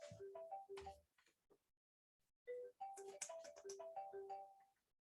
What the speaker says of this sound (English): I'm so sorry that I'm having an interruption with the phone.